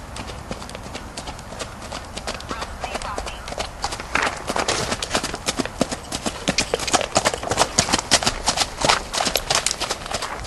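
A gaited horse gelding walks with a steady run of hoof clip-clops, close and fairly loud, while a person talks over the hoofbeats.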